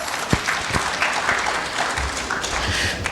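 An audience at a Dahua security-camera roadshow in Islamabad applauds in a steady sustained burst, with a few sharp individual claps standing out near the start.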